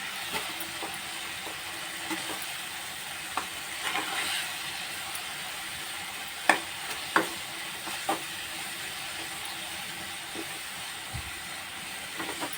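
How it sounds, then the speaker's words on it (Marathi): Vegetables with salt sautéing in a pan, giving a steady broad hiss with a few sharp scraping clicks of a spoon against the pan, fairly quiet and with no talking. "मीठ, हे चांगलं परतून घेऊया."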